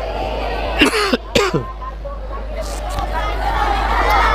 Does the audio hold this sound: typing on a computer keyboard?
no